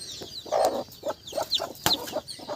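A native country hen clucks in short, repeated bursts close by, while her small chicks peep thinly and high in between.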